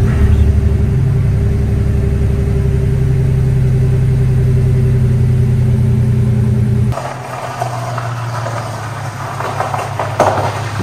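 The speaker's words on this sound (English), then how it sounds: "This is a new Firewood truck I just picked up." Engine of a 2007 Chevy Silverado 1500 half-ton pickup, fitted with rear airbags and due for service, drones steadily while driving, a low rumble that shifts to lighter road noise partway through.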